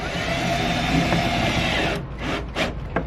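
A screw driven into a speaker box panel while installing an MB Quart stage 6 audio system in a Toyota Tacoma, a steady close whirring drive for about two seconds, then a few scraping clicks as it seats.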